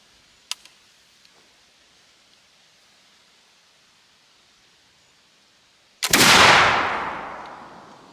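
A flintlock muzzleloading shotgun, freshly cleaned and loaded with 1 1/4 ounces of number 6 lead shot, fires one loud, sharp blast that rings out and slowly decays, after a faint click and near silence.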